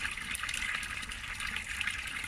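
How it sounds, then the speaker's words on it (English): Clear spring water flows powerfully in a river, a steady close rushing and gurgling wash with no pauses. "It's actually quite powerful, the flow of the river."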